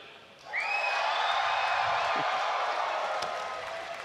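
A live esports crowd at a Fortnite Summer Skirmish venue swells into loud sustained cheering and whooping, with a few shrill whistles, then eases slightly toward the end.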